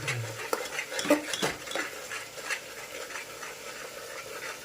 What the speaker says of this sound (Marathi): मसाले टाकल्यानंतर आपण छानपैकी असं त्याला मिक्स करून घ्यायचं, परतून घ्यायचं